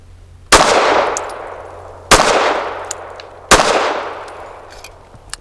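Three loud, well-spaced shots from a Sig P365 Fuse pistol firing Ammo Inc. Stealth 165 grain rounds, each a sharp crack followed by a long fading echo.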